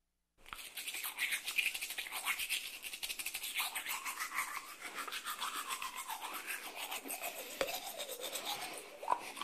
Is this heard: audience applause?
no